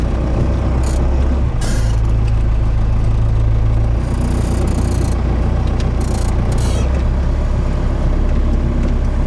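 Cummins 4BT diesel engine in an F150 truck pulling away on a road, a loud continuous low rumble with shifting drone and occasional hissing bursts, close inside the cab.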